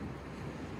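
Sea waves wash against rocks on the Baltic Sea coast in Finland in a brief, steady rush of surf mixed with wind noise, with no voices.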